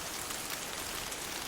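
Steady rain falls as a dense, even hiss with no breaks and no voices.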